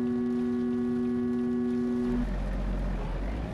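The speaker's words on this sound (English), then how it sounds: "listen to that gross horn" Volvo truck horn in American Truck Simulator, a thin, steady electronic-sounding tone held for about two seconds before cutting off, leaving a low engine rumble underneath.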